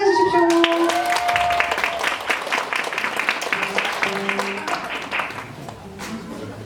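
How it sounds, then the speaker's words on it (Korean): An audience at a twelfth-grade graduation presentation applauds to welcome a performance, with steady clapping from a sizeable crowd that gradually softens, while a voice and a few tones sound briefly over the start. "멋진 공연 박수로 환영해 주십시오"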